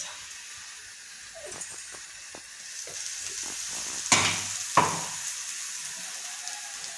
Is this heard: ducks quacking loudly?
no